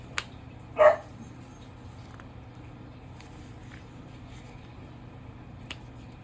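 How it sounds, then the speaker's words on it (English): A single short dog bark rings out from a distance, followed by quiet background hum with faint scattered noises. "I hear her barking out there, like right outside the window"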